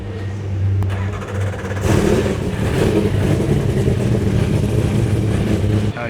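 A race car engine fires up and revs hard and close, after a lower idle rumble at the start, then runs at a loud sustained roar.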